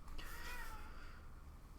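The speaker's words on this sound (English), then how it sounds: "Yes, that was a cat, Vroga." A cat gives a single short meow indoors, faint and somewhat distant against a low background hum.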